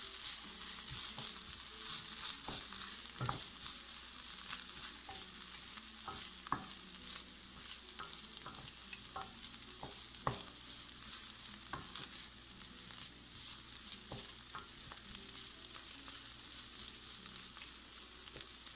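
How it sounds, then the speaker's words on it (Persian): Garlic and onion sauté quietly in a pot for a potato dish, a soft continuous sizzle with scattered light scraping taps from stirring. "اون رو یه مقداری تفت میدیم تا زمانی که بوی عطر سیر بلند بشه"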